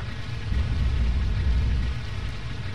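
Heavy rain or hail drumming in the space-flight game Evochron Mercenary, a dense, steady hiss with a deep rumble underneath and no pauses.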